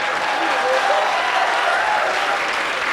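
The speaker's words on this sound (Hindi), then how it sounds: "हमारे दुख में तालियां बजाओ" Steady, dense applause from a comedy-poetry audience, many hands clapping at once in a continuous wash of sound that holds at an even level from start to finish.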